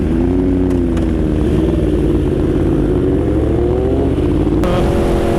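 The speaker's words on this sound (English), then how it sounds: "auto blip है इस पे, हाँ बस तो वो डाउन शिफ्ट कर रहा है" Yamaha R1 motorcycle downshifting with auto-blip during a ride, a steady loud engine drone with shifting tonal pitch and brief blips, close and continuous with no talk.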